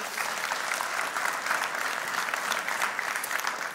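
A church congregation applauds during a sermon, a dense, even wash of many hands clapping together that holds steady at full strength for a few seconds, with no voices.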